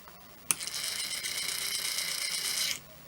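A small Tortoise DC-powered model railroad switch machine motor whirs steadily for about two seconds with a buzzing mechanical grind, starting with a click and stopping abruptly.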